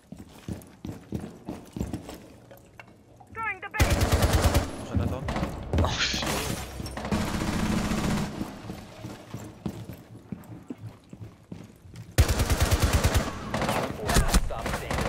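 Gunfire from the shooter game Rainbow Six Siege, with loud bursts of rapid shots in two main stretches amid scattered clicks and footstep-like clatter, while a player talks at times.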